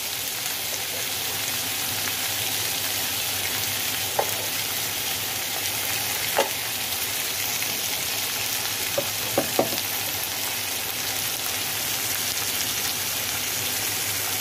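Masala frying in a pan for veg kofta curry, with fresh coriander and salt added, gives a dense, continuous sizzle that runs throughout, with a few light spoon taps from stirring near the end, close up and without speech.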